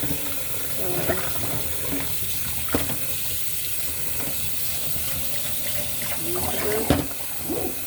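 Water runs steadily into a pot as rice is washed at home, a close continuous splashing flow with scattered clinks and knocks of the pot.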